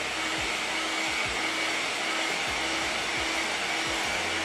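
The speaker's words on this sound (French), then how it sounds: "vous voyez tout de suite avec le sèche-cheveux que la peinture sèche immédiatement." A hair dryer drying paint on an ABS RC car body blows in a steady, loud, continuous whoosh, with a few faint low thumps underneath and no talking.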